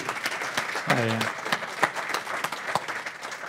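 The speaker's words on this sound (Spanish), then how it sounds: "pido un aplauso para recibir a nuestro invitado de hoy, el doctor Julio María Sanguinetti" Audience applause welcoming Julio María Sanguinetti at a literary café event, fairly soft, steady clapping with a voice speaking briefly over it.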